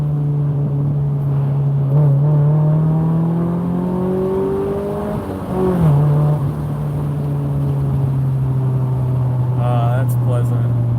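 An Acura Integra accelerates hard past a concrete wall, its engine note climbing steadily and loud, with a brief shift dip midway before pulling on, echoing off the wall, and a voice faint near the end.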